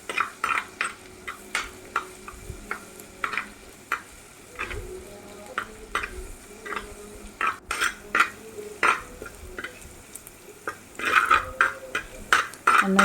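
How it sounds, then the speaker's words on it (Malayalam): Crushed ginger and garlic sauté in a pan for a Kerala-style fish head curry, with steady stir-scrapes and light clinks of a utensil against the pan over a soft sizzle, close and without talk. "ചതച്ചതും കൂടി ഇട്ട് കൊടുക്കാം കേട്ടോ. ഇത് നന്നായിട്ടൊന്ന് വഴറ്റിയെടുക്കണം."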